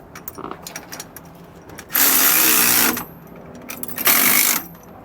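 A power tool tightens the bracket bolt on a Roadmaster Exact Center steering stabilizer in two loud whirring bursts, the first about a second long and the second shorter, with faint clicks and handling noise between them.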